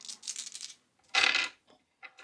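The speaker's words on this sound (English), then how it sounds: "It's hard to roll a 16 on 3 dice." Three dice tumbling onto a table in a tabletop RPG session: a bright clattering burst of hard little impacts, preceded and followed by softer scattered clicks, close and alone with no talk.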